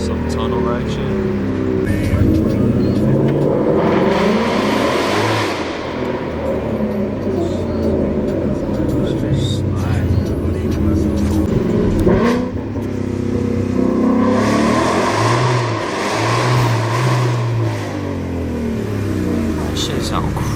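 Ford Mustang with a new intake and tune, accelerating hard with surging engine roars in two pulls, as if through a tunnel, with people talking over it.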